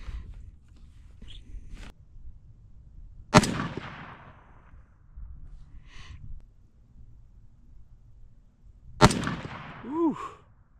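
A Ruger SFAR rifle chambered in 6.5 fires two loud, sharp shots several seconds apart outdoors, each with a short echoing tail, amid quiet handling noises and a brief exhaled voice after the second.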